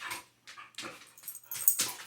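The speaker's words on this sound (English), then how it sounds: "Wholesome dog. He's trying to bite it." A dog begging for a candy sucker whimpers and yips in short high-pitched bursts, four or five close, fairly quiet cries separated by brief pauses, with no one talking.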